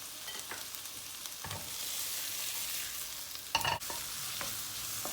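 Onions, garlic and peppers frying in a pan for an eggplant dish: a steady, close sizzle with a few scraping stirs and one louder clatter, with no talk.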